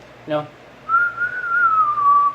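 A single clear whistled note rises and falls in a smooth melodic line, preceded by a short buzzy vocal sound, fairly close and loud.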